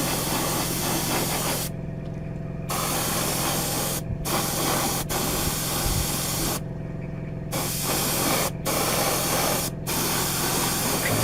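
Steady hiss of spray paint from a can or airbrush coating a part of a Tamiya 1/12 scale Yamaha YZR-M1 '09 model kit, in several continuous bursts separated by short pauses, close and fairly loud.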